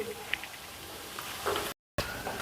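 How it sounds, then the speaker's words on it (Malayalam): Prawns for a prawn roast crisping in a pan of coconut oil, a soft, quiet sizzle with a few sharp spits and stirring scrapes, broken by a brief silent gap. "ചെമ്മീൻ റോസ്റ്റിൻ്റെ ചെമ്മീനാണ് നമ്മളിവിടെ ചെറുതായിട്ടൊന്ന് മൊരിയിച്ചെടുക്കുന്നത്"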